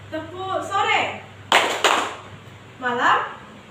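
Children clapping in a classroom clapping game, a teacher calling out the counts: two sharp bursts of claps close together, with a voice talking before and after.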